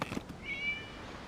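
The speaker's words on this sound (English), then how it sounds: "It was just a cat." A cat meows once in a video game scene, a short, thin, faint cry that rises and holds briefly over quiet background ambience.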